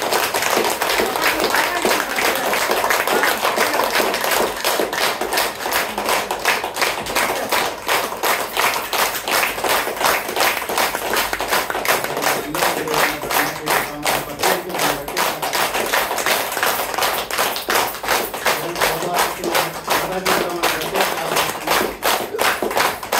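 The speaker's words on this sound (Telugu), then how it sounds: "గట్టిగా క్లాప్స్ ఇద్దాం" An audience at a spiritual meditation training session claps loudly and rapidly in sustained unison for over twenty seconds, a dense rhythmic patter of many hands filling the room.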